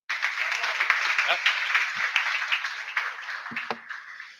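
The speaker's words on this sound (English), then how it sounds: "Can we please have a round of applause for the hub?" Audience at a fintech pitch event applauding, a steady patter of many hands clapping at moderate distance for several seconds, with a few brief voice sounds underneath.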